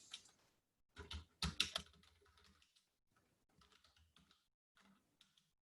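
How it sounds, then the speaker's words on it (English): Keywords are typed on a computer keyboard in soft, close key clicks that come in short irregular clusters, with quiet gaps between the bursts of tapping. "you type in up to 10 different starter keywords"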